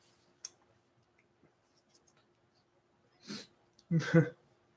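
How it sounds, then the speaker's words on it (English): Two dry sneezes come close together near the end, the second louder and fuller, after a mostly quiet stretch with a faint click or two. "Those were dry sneezes"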